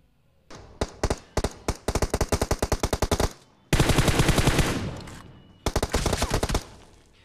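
Gunfire spray in the BGMI mobile battle game: loud rapid automatic bursts, a long rattling volley followed by a dense roaring stretch and another burst, with no talking over it.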